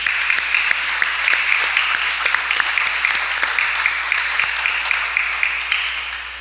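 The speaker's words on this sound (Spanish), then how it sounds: "Ella va a escuchar el aplauso desde España" A congregation at Mass claps continuously for several seconds, a dense, steady patter of many hands that fades slightly toward the end.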